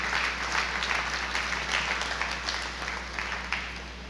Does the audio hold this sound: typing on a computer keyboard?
no